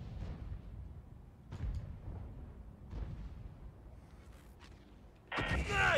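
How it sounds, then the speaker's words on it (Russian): Artillery shots in a tank video game: a few heavy, muffled booms at regular intervals over a low rumbling background, ending with a louder, brighter blast near the end. "Два выстрела, два пробития."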